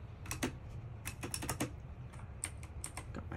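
Typing on a computer keyboard, close and fairly quiet: irregular bursts of sharp key clicks, some in quick runs and others spaced apart, with no talking.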